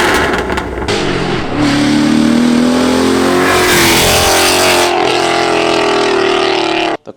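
A BMW M6 V10 screams through a custom F1-style exhaust with a loud, sustained high-pitched wail that climbs and holds across repeated revs, close up, before cutting off abruptly at the end.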